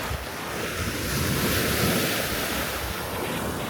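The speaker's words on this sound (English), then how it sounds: "Yeah, just a beautiful beach." Ocean waves wash onto an uncrowded beach on a warm day, a soft, even surf swell mixed with wind buffeting the microphone, rising slightly in the middle and easing again.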